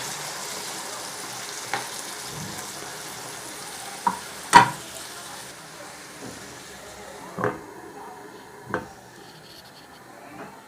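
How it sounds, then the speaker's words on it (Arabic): Tomatoes simmering in a pan for Egyptian fava beans, a quiet continuous sizzle broken by several sharp stirring scrapes and taps, close and fairly soft. "هنضيف بقى الطماطم بتاعتنا، بسم الله الرحمن الرحيم، وهنسيبهم بقى يتسبكوا مع بعض شويه."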